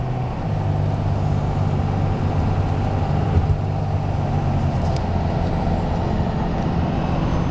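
A truck engine runs under load with steady low rumble and a droning tone, a brief rise near the middle suggesting a shift, heard from inside the cab without talk.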